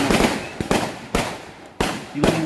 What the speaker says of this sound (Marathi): फटाक्याच्या आतिषबाजी